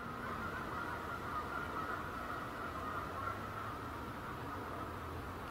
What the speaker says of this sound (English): Sounds like whatever geese were around took off.